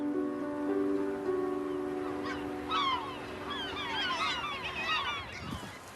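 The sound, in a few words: geese honking on a bird island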